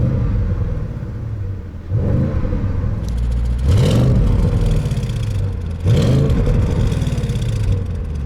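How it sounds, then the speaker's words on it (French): A deep Audi S8 engine in dynamic mode with its exhaust valve open revs up in several strong surges, its muffled, throaty exhaust rising and falling between steady idling rumble. "On entend vraiment le côté un peu sourd du moteur"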